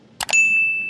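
A notification bell sound effect: two quick clicks followed by a single bright, loud ding that rings on and slowly fades.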